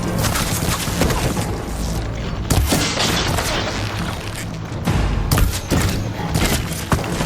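Combat in Horizon Forbidden West, dense bursts of gunfire and heavy booms, loud and close, with irregular sharp cracks and impacts layered over a continuous roaring battle background.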